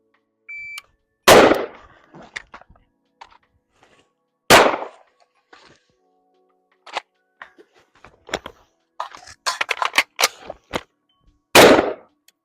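Sharp, loud pistol gunshots crack out during a timed shooting drill, with a few big reports spaced seconds apart and many smaller clicks and metallic taps scattered between them.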